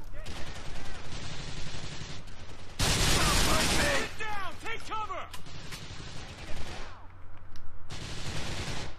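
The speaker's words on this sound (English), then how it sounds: "Someone else is shooting me from behind." Gunfire from behind in Grand Theft Auto IV with its Lost and Damned and Ballad of Gay Tony episodes, loud bursts of shots and ricochets coming in waves, mixed with game sounds.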